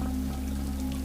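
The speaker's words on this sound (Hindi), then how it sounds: "बारिश की आवाज के अलावा सन्नाटा था।" Steady night rain falls as a continuous, even hiss with a low background hum, with no voices over it.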